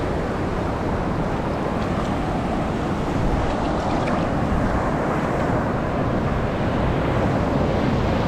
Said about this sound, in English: Little tiny wave.